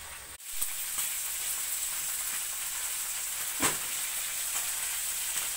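Fish fries in a pan with a steady, close sizzle and hiss that runs unbroken, with a brief louder spatter near the middle.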